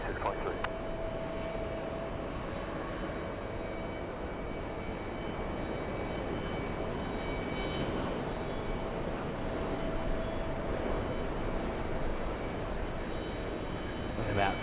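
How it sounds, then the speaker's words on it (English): A Condor airliner lands on runway 22 right, its jet engine roar a steady, broad rumble holding through the whole stretch with a faint whine on top, distant and continuous, with voices talking over it at times. "We have the Condor Team Stripes landing on the closest runway to us."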